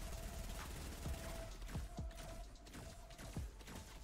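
Impulse rifle firing single shots in a video game, at a base, heard as a series of sharp, spaced bursts about every half second with a faint mechanical whine underneath.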